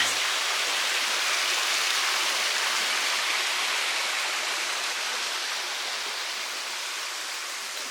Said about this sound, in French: Grosse cascade.